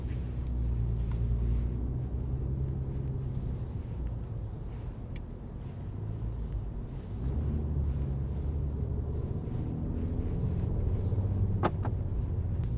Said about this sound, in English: You can already hear the rumble even though we are in comfort mode.